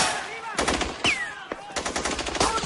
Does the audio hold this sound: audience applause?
no